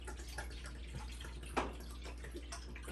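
Pomegranate juice is poured into a container in a home kitchen, a steady trickling and splashing liquid stream with small gurgles, moderately close and continuous.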